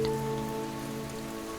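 Rain falling as a sound effect in a Pokemon bedtime story, a soft steady patter on a surface under a low tonal hum, gentle and even with no voices.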